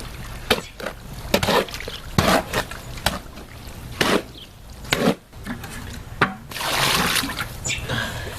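Stucco mixed by hand with water and a fistful of fiberglass, giving repeated wet splashes and sloppy scraping strokes at close range, with some heavier sustained churning toward the end.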